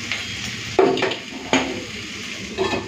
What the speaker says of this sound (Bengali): এরপরে ঢাকাটা দিই।